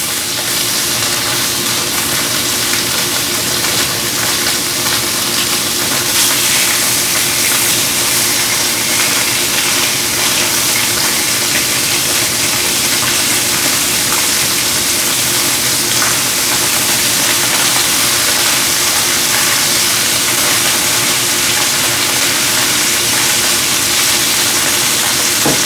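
Salmon fillets searing flesh side down in a hot skillet for Tuscan salmon, a loud, dense, unbroken sizzle that holds steady throughout with no talk over it.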